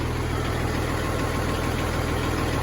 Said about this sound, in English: Oh, listen to that B-block purr.